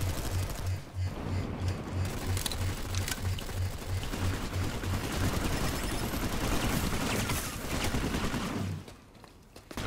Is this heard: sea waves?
no